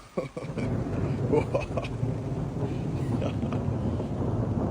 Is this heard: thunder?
yes